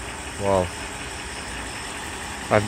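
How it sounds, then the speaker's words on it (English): A Mercedes S420 engine idles with a steady, low continuous hum, while someone speaks briefly over it twice. "So the engine is running."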